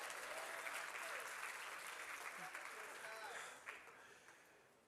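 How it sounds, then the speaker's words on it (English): Audience applause at a conference, a steady wash of clapping that holds loud and then tapers off toward the end. "I'm waiting for that clap."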